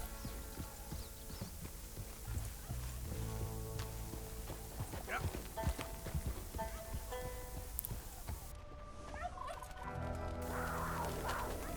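Turkeys gobble repeatedly in the wild-west video game Red Dead Redemption 2, their calls mixed with hoof clip-clops and steady outdoor game ambience at moderate distance.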